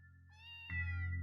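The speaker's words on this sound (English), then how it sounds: "Oh, kitty cat." A cat meows in the video game The Legend of Heroes: Trails to Azure, a single clear, drawn-out call heard close and alone over a steady low game hum that swells midway.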